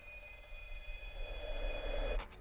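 A black telephone rings in a film trailer, a steady electronic ringing tone that carries on for about two seconds before cutting off, with no voices heard.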